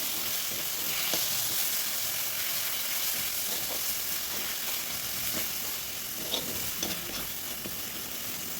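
Ginger-garlic paste and dried red chilies sizzle in a pan with softened onion and tomato, giving a steady, fairly loud frying hiss with occasional soft stirring clicks, and no talking.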